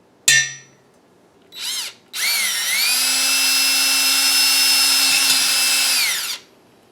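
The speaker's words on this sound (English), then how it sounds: "drill a hole for the cord in the back" A sharp clang, then a short whir and a long steady high-pitched power drill whine boring a hole into wood before it stops.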